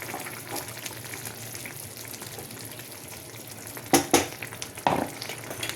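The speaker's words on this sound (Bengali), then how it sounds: "এখানে চিংড়ি মাছগুলো দিয়ে দেব, ভেজে রেখেছিলাম।" Pre-fried prawns are stirred into a bubbling pan of curry, with a soft steady sizzle and simmer broken by a few sharp clinks and scrapes of a spoon near the end.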